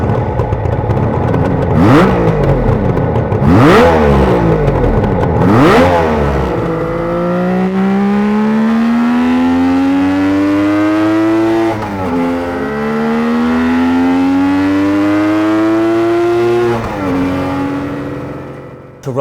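Suzuki GT750 motorcycle engine gives three sharp throttle blips up front, then settles into a loud, steady, even running note with gently rising and falling revs, close by and alone.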